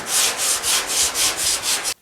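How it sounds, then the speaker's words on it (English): Hand block sanding body filler on a car door panel of a Pontiac GTO restomod, heard as about eight steady, even back-and-forth rasping strokes, close and loud, ending abruptly. "But let me keep sanding on this."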